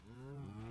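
A single low, drawn-out cow moo from the Minecraft video game, close and clear, lasting under a second with no talk.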